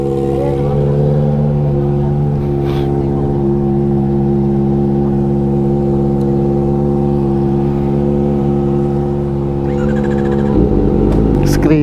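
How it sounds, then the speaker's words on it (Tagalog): A Kawasaki ZX25R motorcycle fitted with an AR exhaust idles and revs loudly up close in a continuous high-pitched engine drone, with a brief surge in throttle near the end. "Screamer talaga ZX25R, no? Tapos naka AR exhaust pa."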